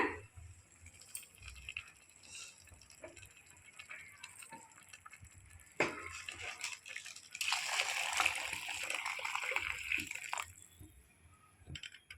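Water is poured into a pot for vegetable biryani. A soft gushing pour swells in the middle and then tapers off. It is fairly faint, with quiet kitchen clatter before and after.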